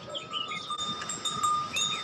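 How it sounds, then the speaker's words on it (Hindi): Oxen are led to a field in the morning in an Uttarakhand hill village. Thin, bright tinkling tones, like animal bells, clink lightly and irregularly over a quiet outdoor background, with no voices. "सुबह उठते ही बैलों को खेत में ले जाया जाता है।"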